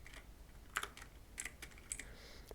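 Keys tapped on a computer keyboard as a command is typed into a Windows command prompt: a few quiet, scattered clicks in short bursts over a faint background hiss, with no voice.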